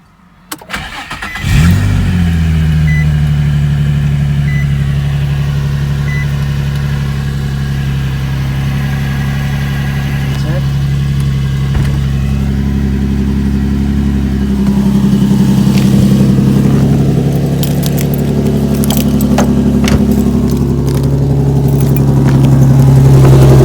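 An Infiniti G35 fitted with a manual transmission swap cranks over and fires up, settling into a steady, loud idle with a rise in engine note partway through as it is revved, heard up close with no talking.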